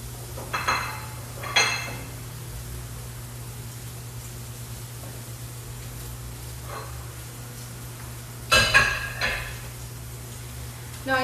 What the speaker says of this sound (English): I moved the pan over to the highest part of the flame